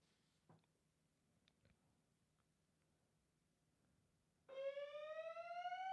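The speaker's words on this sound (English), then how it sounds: "Looks like it was another false fire alarm going off here in the building." A building's fire alarm starts up abruptly after a few quiet seconds with faint thuds, then sounds as a loud, piercing, rising electronic tone that continues to the end.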